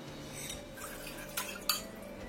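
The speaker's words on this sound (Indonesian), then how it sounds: "Kita larutkan, campur sampai rata." A utensil stirs and mixes a sauce in a cooking pot, giving quiet scraping with a couple of sharper metallic clinks against the pot near the end, close by and without speech.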